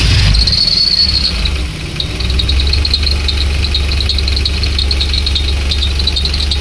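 A car engine idles steadily after being started, with a fairly new belt and tensioner roller fitted. It gives a low, even rumble under a thin high whistle that wavers and pulses throughout. Nobody speaks.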